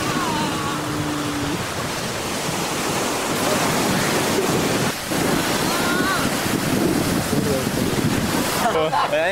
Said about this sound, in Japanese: はい、海に来てます。